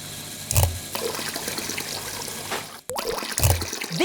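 Water splashes and trickles into a LEGO toy plane's water tank in uneven gushes, a couple of louder sloshes and a brief click in between.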